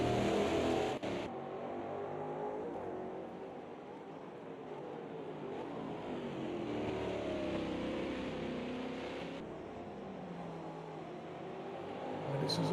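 Race cars run nose to tail in a five-car pack at Spa during a two-hour endurance round, their engines droning and rising and falling steadily while a commentator talks over them.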